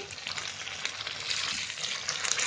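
Tomato paste frying in a pan for chicken kofta curry, giving a steady, dense sizzle that runs unbroken the whole time and grows slightly louder toward the end, with no voices over it.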